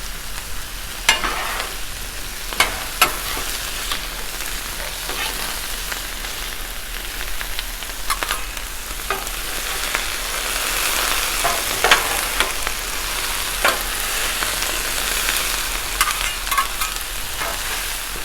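Diced potatoes and smoked sausage fry on a Blackstone griddle with a steady, even sizzle and crackle, broken by occasional sharp clicks and scrapes.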